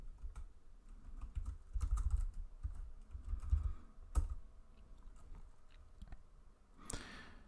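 Login credentials typed on a computer keyboard at a Windows 10 sign-in screen, a close, steady patter of keystrokes in uneven bursts with a few heavier key presses and short gaps, no voices.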